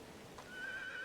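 A horse in the video game Medieval Dynasty gives a short, faint whinny, rising and then fading over about a second.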